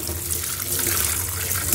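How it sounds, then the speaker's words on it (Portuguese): Dry beans being rinsed under a running kitchen tap, a steady broad splash of water pouring into a sink for a couple of seconds, close and continuous with no talk. "Vamos lavar o nosso feijão."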